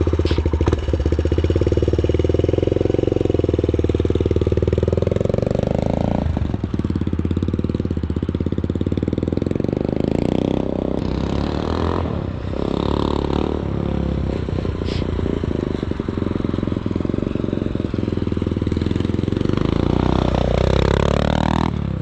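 A motorcycle engine idles with a loud, clattering rumble close by, broken by several throttle blips that swell and fall back, ending with a sharper rev near the end.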